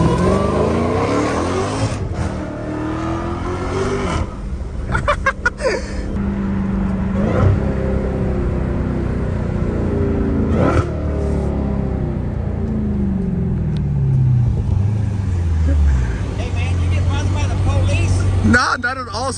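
A Dodge Hellcat Redeye engine revs and rises in pitch during a drive at sunset, loud and close throughout, with sweeping acceleration tones and shifts.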